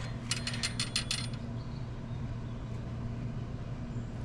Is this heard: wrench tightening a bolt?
yes